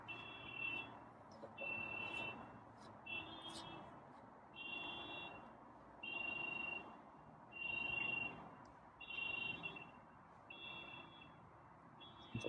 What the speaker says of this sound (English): This nice car alarm is going off.